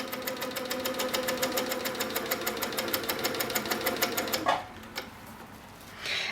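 HQ Sweet Sixteen quilting machine stitching a quilt with a ruler, a steady rapid needle rhythm running loud and close for over four seconds, then stopping abruptly, with only faint background afterward and no talk.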